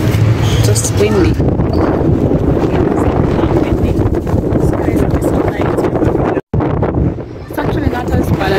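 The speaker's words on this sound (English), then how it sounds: "Just windy." Strong wind buffets the microphone in a constant roar at Niagara Falls, with people talking under it throughout.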